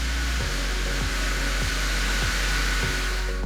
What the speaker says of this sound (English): The obvious #1 application for this blower, because it moves so much air, is leaf removal on a large scale.